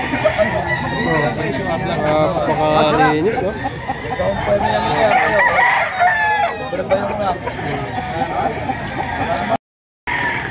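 Roosters crow repeatedly at a busy morning poultry market in Lipa, Batangas, loud and close, over continuous chatter and speech from people nearby.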